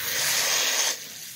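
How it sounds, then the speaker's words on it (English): Running water pours over brushes being rinsed, a steady close hiss that drops off abruptly about two-thirds through, leaving only faint background. "So let's rinse these bad boys."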